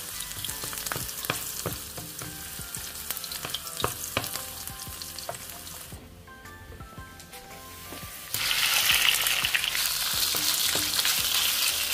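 Chicken fries with garlic in a pan, a close, continuous crackling sizzle with frequent scraping stirs. It dips briefly, then surges into a louder, brighter hiss for the last few seconds.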